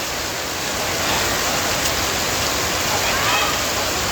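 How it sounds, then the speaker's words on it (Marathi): Heavy rain in Singapore pours as a loud, continuous hiss that swells slightly after the first second, with a faint voice partly buried in the downpour. "अरे यार आत्ताच पाऊस पडायचा होता"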